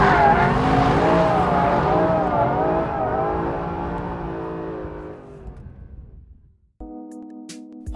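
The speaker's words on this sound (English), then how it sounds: "Catch it with a bit of throttle and then ride out the most delicious slide." A 2013 Mercedes-Benz SLS AMG Black Series slides on a race track, loud tyre squeal and engine roar fading as it drifts away, then a brief quiet before a different tone.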